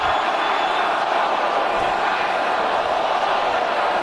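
A dense, steady roar from the crowd in a hockey arena at a Montreal Canadiens versus Edmonton Oilers NHL game, sustained cheering at even loudness without distinct peaks.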